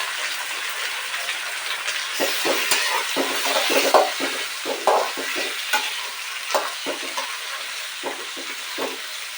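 Chopped tomatoes stir-fry in hot oil for a vegetable upma, giving a steady close sizzle. Stirring scrapes and clatters through it, with no voices.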